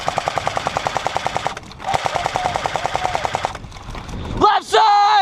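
Airsoft guns fire in rapid automatic bursts during a building assault in an airsoft game, a steady close stream of sharp snapping shots that breaks off before a brief electronic whine at the end.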